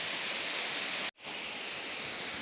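A waterfall at Halimpak Prensa pours in a steady, loud, broadband roar that cuts out briefly near the middle before resuming unchanged.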